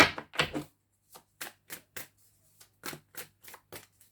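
Worn, scruffy tarot cards riffle and snap in short, irregular bursts, close by, with a couple of quicker flurries at the start and scattered taps afterward.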